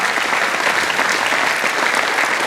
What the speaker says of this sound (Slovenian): Še en aplavz za Tanjo.